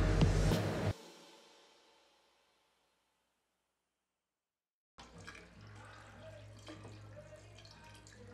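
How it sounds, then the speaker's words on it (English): Water drains from a water heater during a bungalow demolition: a loud rushing burst cuts off into silence, then a fainter, steady trickle and splashing continue. "The water heater is taking forever to actually drain out"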